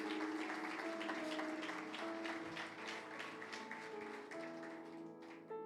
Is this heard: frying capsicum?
no